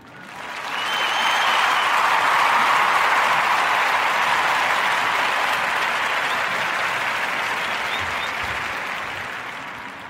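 A podcast studio audience breaks into applause for Drexels and Honeybees, a dense, steady wash of clapping that swells within the first second, holds loud for most of the stretch, and tapers slightly toward the end, with no talking over it.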